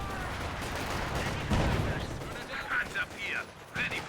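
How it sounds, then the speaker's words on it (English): A mortar firing in the real-time strategy game Company of Heroes 2: dense rumbling battle noise with booming launches and impacts, continuous low blasts under game voices. "Mortar opening up on the Rocket Morpher"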